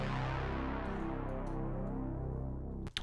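A deep, buzzy synth bass note from an Analog Bass preset sustains loud and thick, fading slightly before cutting off with a short click at the end.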